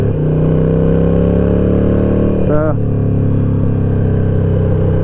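A Harley-Davidson Sportster cruises along the interstate, its engine a loud, steady low rumble with a brief whining shift in pitch midway, wind roaring constantly over the microphone.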